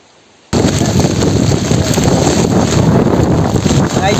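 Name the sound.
stormy wind and rain at the seashore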